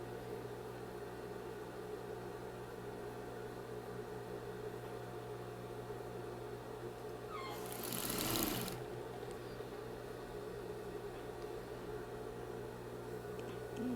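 An electric sewing machine stitching a seam on a patchwork rug runs as a faint, steady whir with a low hum, briefly joined by a louder burst of noise partway through.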